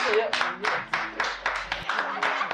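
On a live African entertainment talk show, a small group claps in separate sharp bursts about every third of a second, fairly close, with talk mixed in among the claps.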